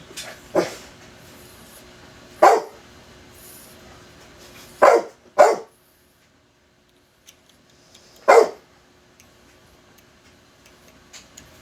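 A single dog barks in sharp, isolated bursts, about six over the stretch with irregular pauses between them, close and fairly loud against a quiet room.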